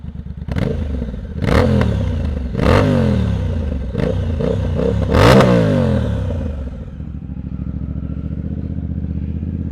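A Triumph Speed Twin motorcycle with its exhaust tips removed revs sharply about five times in close succession, loud and near, then settles into a steady, throaty idle.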